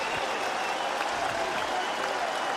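A baseball stadium crowd of over 17,000 at a Detroit Tigers versus Cleveland Indians game claps and cheers in a dense, steady wash of applause that fills the whole stretch without letting up.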